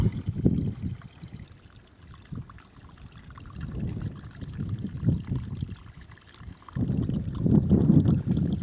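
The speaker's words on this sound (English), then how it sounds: "All trickling down through the rocks" Yellowish water trickling down through rocks in a gully, a close, uneven gurgling flow that swells and fades in surges, with no voices.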